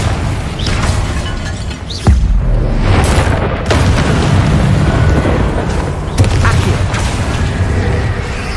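Confringo blasting spells go off in the wizarding game Hogwarts Legacy, loud booming explosions with sharp bursts at intervals over a dense, rumbling combat soundscape, with no talk.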